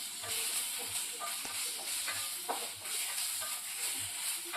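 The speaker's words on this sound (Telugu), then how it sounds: "ఈ ఆకు తొందరగా ఫ్రై అవుతుందండి, మూత ఏం పెట్టిన అవసరం లేదు." Ajwain leaves fry and sizzle in a pan while being stirred, a continuous crackling hiss broken by small scraping clicks of the spatula, close and steady throughout.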